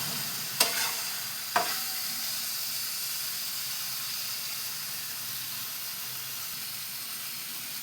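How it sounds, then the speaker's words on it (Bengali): Vegetarian cabbage curry with potato cooking in a pan, a steady sizzling fry throughout with two sharp clinks of a spoon against the pan early on, then continuous hiss alone. "দিয়ে দেখো নাড়িয়ে চাড়িয়ে কষিয়ে নিলাম।"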